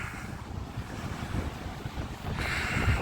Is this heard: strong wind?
yes